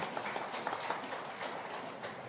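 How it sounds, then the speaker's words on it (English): Audience applause at a political speech by Ramaphosa on ANC corruption: dense, steady clapping from a crowd that holds an even level throughout, with no pauses. "the applause on this is coming from the left side"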